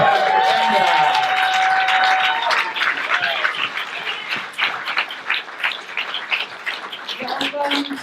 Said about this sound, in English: big round of applause for Kendra